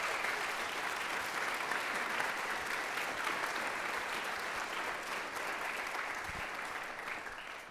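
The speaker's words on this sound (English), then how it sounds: "give Mr. Miller a round of applause" An audience at a school band and orchestra concert applauds, a sustained wash of clapping from many hands that holds steady and starts to fade near the end.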